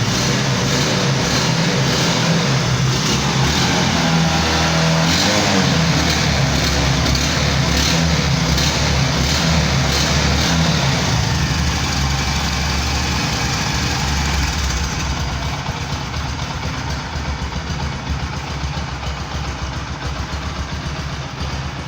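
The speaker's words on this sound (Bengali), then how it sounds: "আপনাদেরকে বাইকটির সাউন্ডটা দেখাইলাম, কত সুন্দর স্মুথ আছে" A Bajaj Discover motorcycle with about 3,000 km on it idles steadily close by, its engine running smoothly and continuously throughout with no voices.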